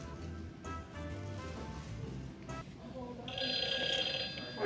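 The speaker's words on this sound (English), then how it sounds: "Wait a minute, this phone ringing." A telephone starts ringing inside a Target store, a bright electronic trill that swells near the end, heard over ambient store noise and a voice.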